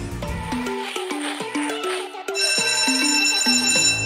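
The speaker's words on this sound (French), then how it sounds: "Oh, c'est la sonnerie." A bright electronic ringing melody of repeated tones, loud and continuous, rising into a sustained high chime near the end.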